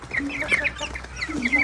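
A young purebred rooster clucks close by in short repeated calls, with other chickens and chicks chattering around it in a poultry yard.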